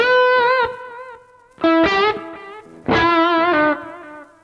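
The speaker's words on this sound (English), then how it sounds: "I am playing through some delay and reverb" Electric guitar played through a Mesa cab clone with delay and reverb, three loud distorted chords or phrases each ringing out and trailing off into echoing decay, with no talking.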